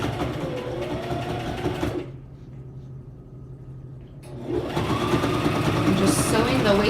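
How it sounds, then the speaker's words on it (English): A sewing machine stitching a waistband runs in a fast, steady whir, stops for a two-second pause, then starts again, close and prominent. "I'm just sewing the waistband on"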